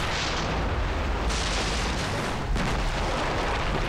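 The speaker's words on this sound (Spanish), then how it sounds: "¿Has visto esa explosión? ¡Ha explotado algo!" Loud, continuous rumbling blasts of an explosion in the video game Far Cry 3, a dense roar with sharper bursts breaking through, close and heavy with no pauses.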